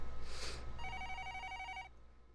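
A telephone rings in the video game Collar x Malice: a bright, trilling electronic ring lasting about a second, close and clear, after a short breathy noise, with no talking.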